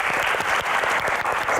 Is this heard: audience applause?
yes